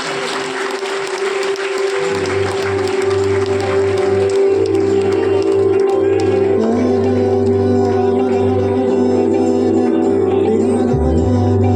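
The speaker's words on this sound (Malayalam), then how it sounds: "നല്ലൊരു കയ്യടി നൽകാം" Sustained applause from an audience at a stage welcoming ceremony for an honoured guest, dense steady clapping that carries on at full strength throughout with a low hum underneath.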